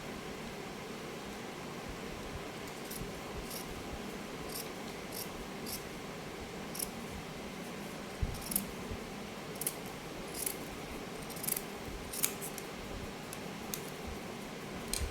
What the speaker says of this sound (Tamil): இப்போ எங்கள் சிசர் இப்போ என்ன செய்யணும்னா அப்படியே கட் பண்ணிப்பேன்